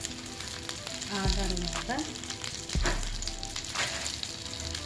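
Stuffed brinjal masala frying in a pan with spice powder and coriander, a constant close sizzle with stirring scrapes and clatter, while someone talks over it.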